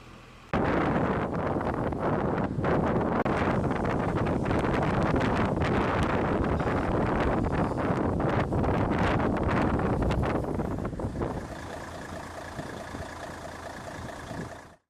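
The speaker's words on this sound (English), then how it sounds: "The wind causes a lot of problems on the cliffs with the features." Strong wind blasting across seaside cliffs at Blackpool, a loud, continuous roaring buffet hitting the microphone for about eleven seconds before easing into quieter, steadier gusts.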